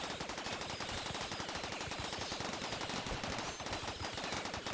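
Sustained rapid machine-gun fire from a RimWorld colony defense turret with a worn barrel, a dense unbroken rattle of shots held at a steady loud level throughout.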